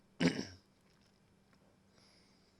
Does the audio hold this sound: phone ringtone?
no